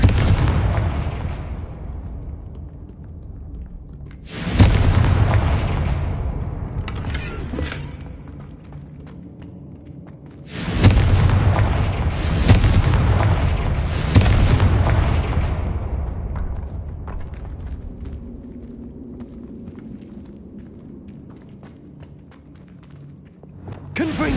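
Confringo explosive spell blasts in Hogwarts Legacy, loud booming detonations with long rumbling tails, several of them spaced over the span, at least one coming as a quick double burst, over a low continuous game backdrop.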